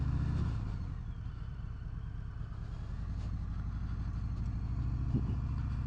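A 2018 Harley-Davidson Sport Glide is ridden, its V-twin engine a steady low rumble with constant wind noise close by and no talk.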